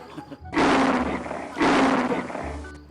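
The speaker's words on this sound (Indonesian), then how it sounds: "Kayak suara harimau." Two loud, close tiger roars, each lasting about a second with a brief gap between them, preceded by faint low rumbling.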